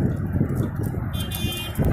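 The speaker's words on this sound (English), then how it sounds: "Driving around the prison, honking their horns incessantly" Car horns honk repeatedly in a drive-by protest circling a prison, heard from a distance as blaring tones over heavy low rumble and traffic noise.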